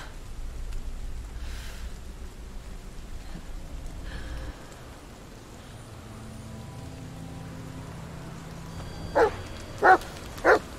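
A dog in The Medium gives three short, sharp barks near the end, after a stretch of low rain-like ambience and quiet game sounds.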